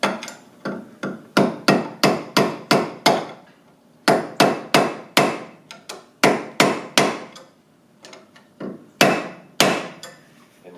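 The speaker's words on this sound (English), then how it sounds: "that'll give me a good edge to hammer this down into the keyway" Close, loud hammer blows on a blunt screwdriver staking a hub nut into an axle keyway during a rear hub and bearing job, struck in steady bursts of sharp metallic hits with brief pauses between groups.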